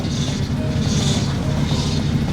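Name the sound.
failing car power steering pump noise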